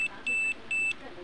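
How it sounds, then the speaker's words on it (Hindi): Electronic buzzer on a TV's electrical distribution board with a blown fuse, giving three short, steady high-pitched beeps in an even on-off rhythm, close and clear over a quiet background. "इसी डैबोर्ड देखिए बजर बज रहा है"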